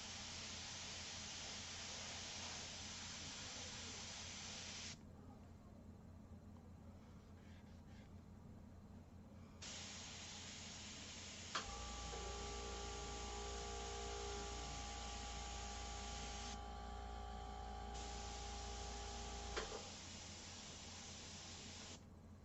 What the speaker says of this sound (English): it's so much easier to kind of finish it up and smooth it out with the airbrush